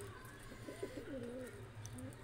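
Pigeons coo softly in a loft as they are fed chickpeas, with low, rolling calls that sound faint and steady throughout.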